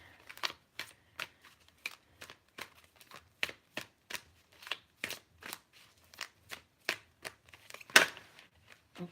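Tarot cards are shuffled by hand in a quiet room, a run of crisp, separate papery riffles and slaps in an uneven rhythm, close and clear, with one sharper snap near the end.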